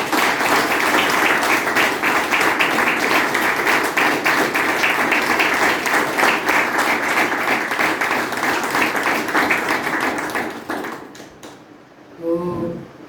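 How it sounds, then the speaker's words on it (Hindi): A group in a recovery-birthday gathering for Satender gives loud, sustained applause that fades out near the end, followed by a brief voice. "तो इसके लिए पहले जोरदार तालियां।"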